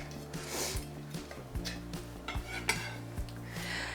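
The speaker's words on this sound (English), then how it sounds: "we're going to chop it up so that it can really blend" A knife chops fresh coriander on a board in a few sharp, irregular knocks, fairly quiet, over steady tonal background sound.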